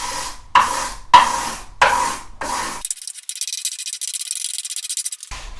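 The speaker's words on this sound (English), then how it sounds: "I'm now just going to have a very gentle rub over the fretboard, first with some 600 wet and dry" A guitar fretboard is gently rubbed with 600-grit wet and dry sandpaper in four short, close rasping strokes, followed by a longer, steadier scratchy rub.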